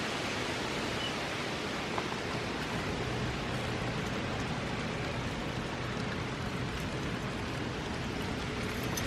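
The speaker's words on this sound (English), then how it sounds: "All right, it started to rain." Rain falls outdoors as a storm begins, a dense, even hiss of drops that continues steadily throughout without any voices.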